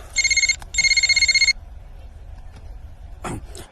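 A telephone rings in two bursts of rapid electronic trills, loud and close, followed by a short thump and a faint voice.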